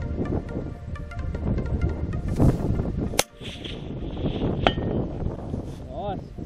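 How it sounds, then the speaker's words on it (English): Gunshots are fired at a gong target outdoors, with one sharp, loud crack near the middle and a fainter second report after it, over steady wind noise and voices talking. "I didn't even know you were shooting!"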